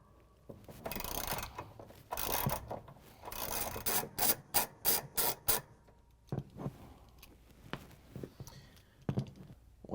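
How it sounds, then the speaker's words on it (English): A ratchet with an extension and a 9/16 inch socket loosens the pulley nut on a GE washing machine transmission, giving bursts of rasping clicks, then a quick run of sharp ratchet clicks, then scattered quieter mechanical knocks. "We're going to use a 9/16 inch socket with a ratchet and extension to take it off."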